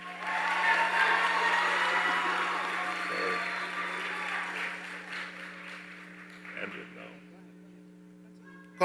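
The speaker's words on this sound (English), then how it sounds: "I invite us to give them a round of applause, please." A high school graduation audience applauds in a large hall. The clapping is loud and sustained at first, then gradually fades over several seconds, with a steady electrical hum underneath.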